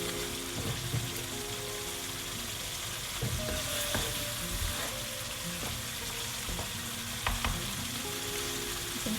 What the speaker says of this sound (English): Then I'm going to add the chilies in the pan and let it simmer on very low heat for another